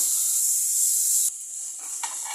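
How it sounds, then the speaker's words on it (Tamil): Onions with ginger garlic paste fry in a pan for a mutton curry, giving a steady, bright sizzle. It drops to a softer hiss partway through, with faint stirring rustles. "வெங்காயம் நல்லா வதங்கட்டும்"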